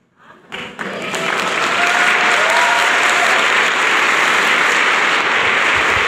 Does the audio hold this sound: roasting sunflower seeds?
no